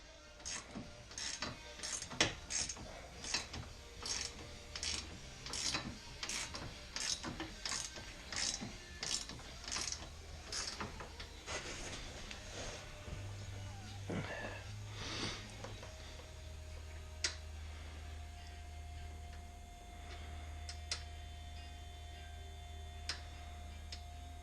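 A socket ratchet tightens a bolt during a CF Moto door install, a quick run of sharp, evenly spaced clicks close up that slows and fades into quieter ticking over a low hum.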